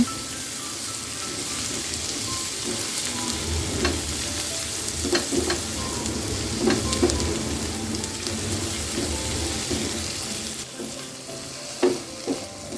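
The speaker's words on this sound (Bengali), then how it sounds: "টমেটোটা দেওয়ার পরও হচ্ছে এখন পেঁয়াজ কাঁচামরিচের সাথে ভালো করে কিছুক্ষণ ভেজে নেব।" Chopped tomato fries with onion and green chili in a steady crackling sizzle, broken by repeated scraping stirs of a spatula against the pan, close and continuous throughout.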